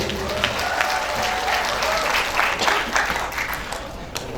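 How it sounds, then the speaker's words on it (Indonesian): Sustained applause from the audience at a Universitas Methodist Indonesia graduation ceremony honouring the graduates, a steady wash of many hands clapping in a large hall with faint voices underneath. "Tepuk tangan dulu untuk peserta wisuda."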